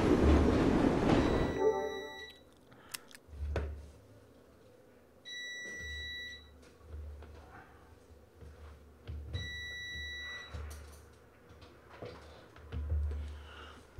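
A train rides along the rails in the video game Assassin's Creed Syndicate, with low rumbling and clanking pulses under game tones and a brief loud burst at the start.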